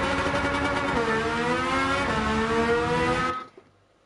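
A Porsche engine in Gran Turismo 7 revs and accelerates loudly through a rising pitch, easing briefly before climbing again, then cutting off abruptly into near silence.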